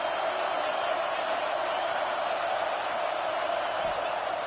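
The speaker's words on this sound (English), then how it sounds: "Listen to the crowd energy here in the early going." Steady, loud stadium crowd roar in a College Football 26 video game featuring Oregon, a continuous dense wash of cheering with no breaks and faint whoops rising near the end.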